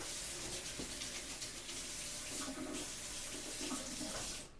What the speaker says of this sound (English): I'm just going to add just a touch of cold water.